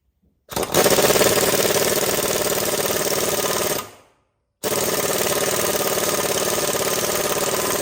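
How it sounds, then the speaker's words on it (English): An impact driver runs down an AC line crimp, two loud sustained bursts of rapid hammering whir separated by a short pause, close and alone. "Now I'm gonna use my impact to run this down and actually crimp this."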